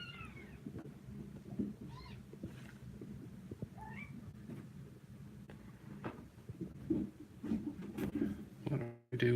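A cat gives several short meows close by, scattered across the clip among faint rustles and handling noises, and the sound grows busier and louder near the end.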